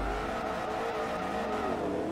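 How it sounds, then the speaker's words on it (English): A Maserati race car in the video game Forza Motorsport 3, its engine droning loudly and steadily as it accelerates, with tires squealing along beneath the roar. "It is time for the Maserati."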